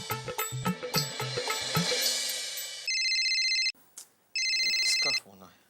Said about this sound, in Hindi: इसका फोन आया